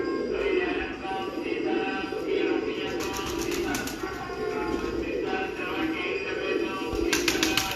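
Breeder pigeons from Kasur coo in low, repeated throaty rolls, with soft wing rustles and faint background voices.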